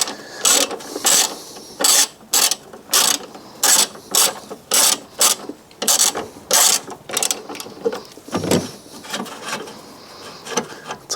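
A socket ratchet clicks in quick, regular bursts while loosening a 13mm bolt on a Fiat 500 battery tray, close and crisp with short pauses between strokes.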